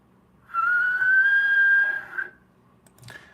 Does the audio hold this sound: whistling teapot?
yes